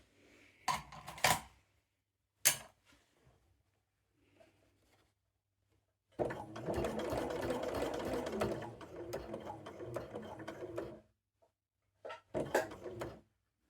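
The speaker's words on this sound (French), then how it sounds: "Donc je vais venir coudre jusque ce côté-là." Sewing machine stitching bias binding, one steady run of several seconds, with sharp knocks and handling clatter before and after it.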